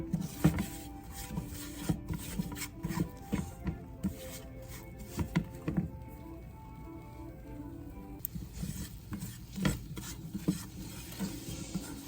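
A spoon scrapes steadily around a pan of oil and flour roux cooking for tomato gravy, with repeated soft scraping strokes and light clinks against the pan, close and fairly quiet, with a faint sizzle beneath.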